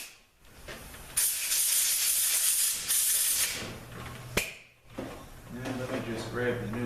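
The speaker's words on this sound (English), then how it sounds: "So blow the excess oil out of here." Compressed air blasts excess oil out of a 904 automatic transmission valve body, a loud steady hiss lasting a couple of seconds, then a second shorter burst, with someone speaking between and after.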